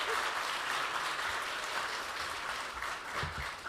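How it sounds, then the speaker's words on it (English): An opening-ceremony audience gives another round of applause for a young saxophonist, a continuous, full crowd clapping that stays steady from start to finish. "think we can muster another round of applause for him"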